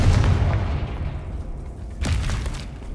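Confringo blasting spell going off in Hogwarts Legacy, a deep booming burst at the start that decays, followed by a second sharp blast about two seconds in, with no talking.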